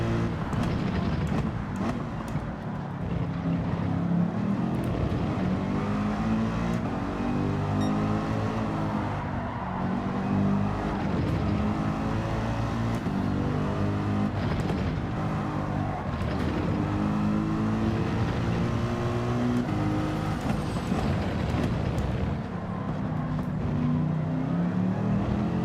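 Race car engines roar in Gran Turismo 7, a loud, continuous drone with shifting revs, steady throughout with no pauses.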